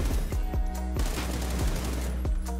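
Rapid automatic spray of Beryl rifle fire in the game PUBG, a loud, dense burst of about ten shots in quick steady rhythm, heard up close with no talking.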